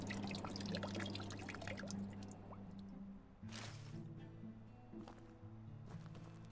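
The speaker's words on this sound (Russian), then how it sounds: "А, кстати, давайте воды наберем." Water is drawn at a village pump in a Russian village simulator game, with splashing and dripping, then a rushing pour that starts and stops in bursts over a low hum, close and clear.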